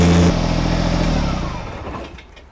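Small Kubota BT602 backhoe attachment on a BX series compact tractor, its engine running loud and close, dropping from a high rev to a lower steady drone that slowly fades.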